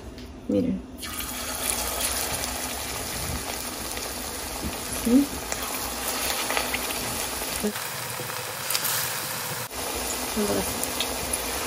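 Shrimp empanadas frying in oil, a steady hissing sizzle that runs throughout with occasional bubbling, while someone speaks Spanish over it.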